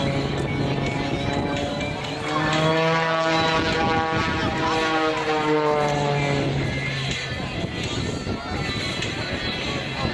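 A steady propeller airplane engine drones loudly throughout at an air show, with a low rhythmic throb and a harmonic hum that rises and falls slightly.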